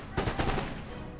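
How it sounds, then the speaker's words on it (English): A musket volley rings out in Empire: Total War, a short burst of overlapping shots crackling together over a brief moment, then fading into battlefield noise. "Give him a volley."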